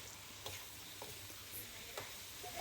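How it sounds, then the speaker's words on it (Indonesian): Green beans, carrots and shrimp sizzle steadily in a pan as they are stir-fried, with a continuous hiss and occasional soft scrapes and taps of a utensil stirring. "setelah ditumis beberapa saat"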